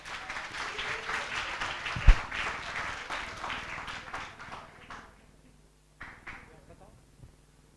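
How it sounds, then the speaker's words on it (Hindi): An audience at an induction programme claps in a dense, moderate burst that fades after about five seconds, with voices mixed in and a couple of scattered claps afterward. "एक बार ताली बजा दो यार।"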